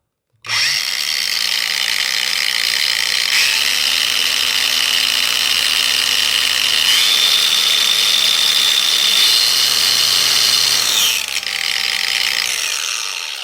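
A cordless four-speed angle grinder from AliExpress running on metal, a loud sustained whine that steps up and down in pitch as its speed and load change, stopping abruptly at the end.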